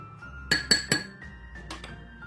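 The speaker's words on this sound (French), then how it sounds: "Avec une cuillère, je les mélange." A spoon clinks against a glass while stirring a homemade fresh olive cocktail: three sharp, bright taps close together, then softer scraping clinks, close and clear with no talk.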